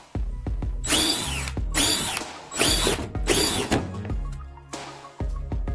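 A power drill bores a hole through a funnel in four quick, whirring bursts close by, followed by one last short burst after a pause.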